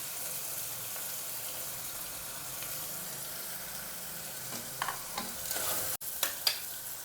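Tomatoes, beans and carrots fry in a pan for vegetable pulao with a low, steady sizzle. Toward the end, a few sharper scraping stirs of a spoon cut through the quiet frying.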